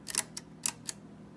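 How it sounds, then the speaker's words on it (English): The shutter of a vintage Graflex large format camera firing, a few quiet dry mechanical clicks in quick succession, close up in a still room. "Shutter is working."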